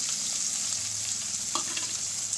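Pork cooked village style with green chili, bay leaf, ginger-garlic paste, coriander and cumin powder fries in a steady, close hiss, with a few faint stirring clinks and no talk.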